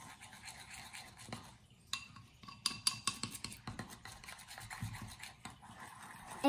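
Slime being mixed by hand, with sticky squelching and scraping strokes in an irregular rhythm, close and fairly quiet, with louder bursts in the middle.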